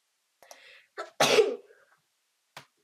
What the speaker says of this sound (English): Was that a sneeze? Yes.